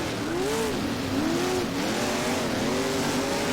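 Big-block race cars circling the Lawrenceburg oval in rFactor, engines droning loudly and continuously with pitch rising and falling as they accelerate and lift, with no talk.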